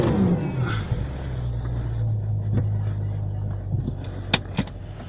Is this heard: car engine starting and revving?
yes